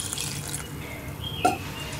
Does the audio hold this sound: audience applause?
no